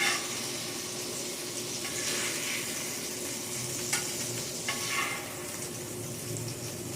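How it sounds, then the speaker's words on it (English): A burger sizzles steadily on a hot griddle alongside eggs, with a constant frying hiss and a few soft scraping clicks as the patty is flipped, no talking. "You take your burger and you flip it."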